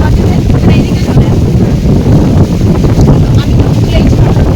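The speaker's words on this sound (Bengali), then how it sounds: "এত হাওয়া দিচ্ছে" Strong wind blows outdoors in a village under dark rain clouds, a loud, continuous broadband roar buffeting the microphone throughout with no one speaking.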